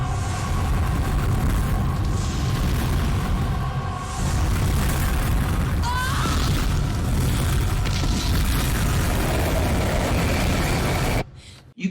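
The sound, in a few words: nuclear bomb explosion scene from the film Terminator 2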